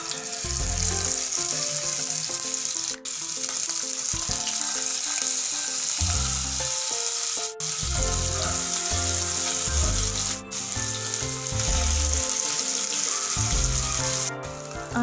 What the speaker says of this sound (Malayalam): നമുക്ക് ഓരോ മത്തിക്കുട്ടന്മാരെ എടുത്തിട്ട് നമ്മൾ ആ തിളച്ച എണ്ണയിലേക്ക് അങ്ങോട്ട് വെച്ച് കൊടുക്കാം